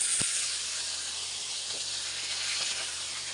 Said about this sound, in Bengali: এই তো আপু ভাইয়া মাছগুলো ভেজে নিব।